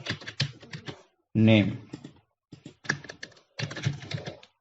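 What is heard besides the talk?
typing on a computer keyboard into a Google Sheets cell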